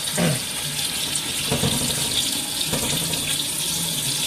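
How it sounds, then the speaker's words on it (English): Cold tap water runs steadily from a faucet into a pot for making chicken stock, a continuous close splashing rush with no talking over it. "Cold tap water."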